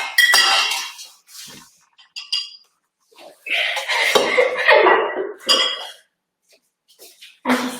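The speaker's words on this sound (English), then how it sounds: "if we're using a potato masher to do it directly in the pan" A potato masher bangs and clatters against a metal pan in bursts of bright metallic clinks and scrapes, close and fairly loud, with short pauses between clusters.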